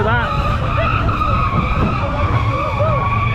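A vehicle's brakes squeal with a sustained high-pitched whine that rises and falls in small wavering bends, over steady engine and road rumble and mixed with faint voices.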